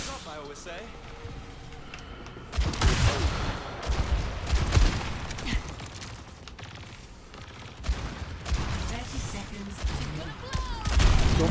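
Gunfire in the team shooter Overwatch, with a Roadhog and Ashe match underway: bursts of shots and impacts keep coming in dense clusters with game effects, and players talk over the action throughout.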